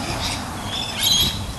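A parrot gives a harsh squawk, a brief, moderately loud call rising over steady outdoor background noise, with no talking.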